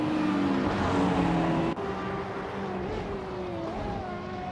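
Engines of AI-driven race cars in a racing video game drone steadily and loudly together, with whining tones that shift pitch as cars pass, continuous with no speech.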